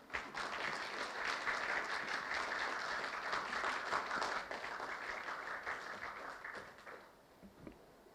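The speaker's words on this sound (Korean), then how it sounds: "여러분 뜨거운 박수 부탁드리겠습니다." A crowd applauds steadily for several seconds, the clapping dense and even before fading out toward the end.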